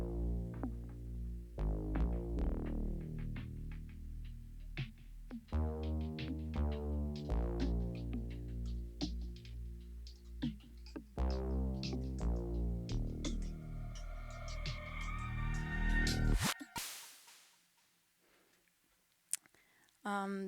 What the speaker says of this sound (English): It's a pop song, really 80s inspired with a lot of DX7 synthesizer.